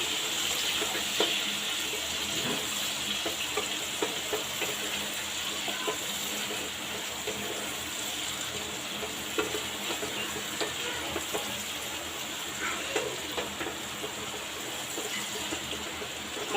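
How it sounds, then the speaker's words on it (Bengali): Spice paste with turmeric frying in a pan as a little water is added, giving a steady wet sizzle with scraping stir strokes and small clinks throughout, close and alone without talk. "একটু অল্প করে জল দিয়ে মশলাটাকে ভালো করে কষাচ্ছি"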